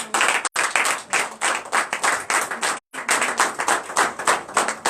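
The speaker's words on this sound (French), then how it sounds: "Veuillez vous lever et donner l'acclamation à Dieu." A church congregation in Comè, Benin, claps in steady, dense rhythm during a Sunday service, a broad wash of many hands continuing throughout with two brief breaks in the sound.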